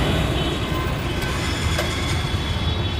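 A metro train passes near Kanhaiya Nagar metro station, a loud continuous rumble and rush of wheels on rails with a faint high squeal, close and steady throughout.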